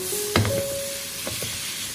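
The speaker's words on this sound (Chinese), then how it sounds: "然后将花菜倒入锅中，这个时候开大火，快速的翻炒均匀，把花菜充分的炒出香味。" Cauliflower stir-fried in a hot wok over high flame, with steady sizzling and a couple of sharp scraping tosses from the spatula, close and fairly loud throughout.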